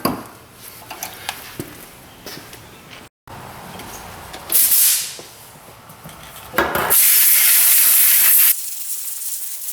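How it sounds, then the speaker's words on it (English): Compressed air hisses in short bursts and then in a long steady blast to clean off used strut mounts during a front strut replacement on a Subaru Forester, close and loud in a workshop. "I just blow off the mounts because we're going to be reusing them"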